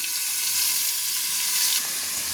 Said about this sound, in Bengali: আলুটা আমার লাল লাল করে ভাজার জন্য একটু চাপা দিয়ে দিলাম।